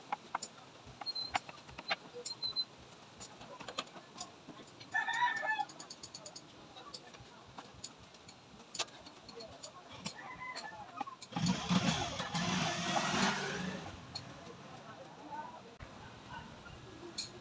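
Chickens kept for conditioning cluck softly near the microphone, with a rooster crowing and several brief bursts of louder fowl calls over quiet background noise.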